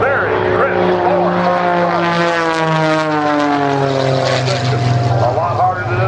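An Extra aerobatic propeller plane makes a low pass at an air show, its engine a loud sustained drone that shifts in pitch as it sweeps by, with a commentator talking over the PA.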